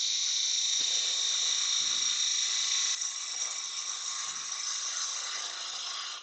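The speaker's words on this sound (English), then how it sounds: "I'm going to go in the other way with the 3/8 spindle gouge and try and get some definition on this end piece here" A wood lathe spins as a 3/8 spindle gouge shapes the end piece of a small turning, giving a steady high whine with a few brief soft scraping cuts.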